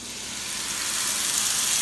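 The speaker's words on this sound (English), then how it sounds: "Oh, that's that good sizzle." Avocado oil and chickpea flatbread batter sizzle steadily in a skillet, a dense, loud, even crackle that swells slightly over the short span with no talking.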